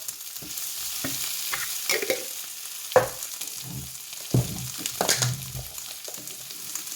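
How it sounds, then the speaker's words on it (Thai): Onion stir-fried in a pan, with a steady close sizzle and frequent irregular scrapes and knocks of the spatula against the metal. "ผัดใส่หอมหัวใหญ่"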